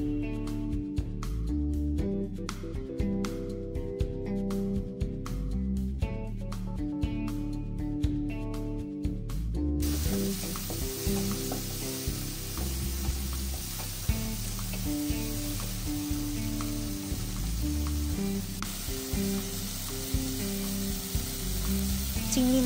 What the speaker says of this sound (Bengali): এখন মাখানো চিংড়ি মাছগুলো আমরা তেলে দিয়ে সুন্দর মতো হালকা ভেজে নিব।